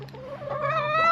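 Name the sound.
chicken clucking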